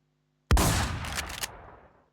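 A long shotgun fires once in the online shooter Infestation, a single sharp, loud blast followed by a rattling, crackling tail that fades out over about a second and a half.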